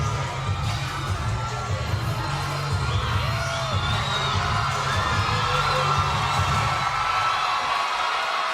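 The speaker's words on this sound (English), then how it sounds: "you hear the the crowd begin to react to one of their own" A women's championship boxing crowd roars and cheers in a packed arena, a continuous loud wash of voices with a low rumbling throb underneath and occasional individual shouts rising above.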